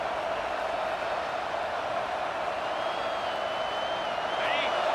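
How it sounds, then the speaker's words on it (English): A large crowd at a football stadium roars steadily and evenly with no breaks throughout, and a whistle-like tone rises faintly above the noise. "this crowd is turning it up a notch"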